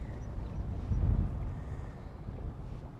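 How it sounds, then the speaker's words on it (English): Southwest wind blowing over a boat on the water while salmon fishing, a steady low rumble and buffeting across the microphone with a brief stronger gust, fairly loud and continuous with no voices. "the southwest wind picked up and began bucking the current"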